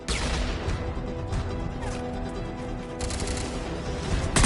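Sustained gunfire in a Mass Effect 3 firefight rattles on continuously, loud and dense, with sharp impacts and crashes mixed into the combat din.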